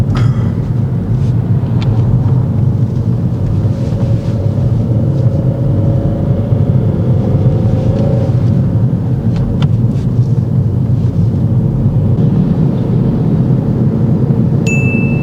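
Car driving on a dual carriageway, a loud continuous low road and engine rumble from inside the cabin, steady throughout, with a brief chime near the end and no speech.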